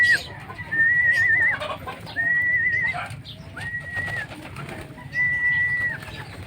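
Pigeons kept in a large flock for sale call in short repeated tones, fairly near, over a low background murmur of birds and a rooster-like clucking.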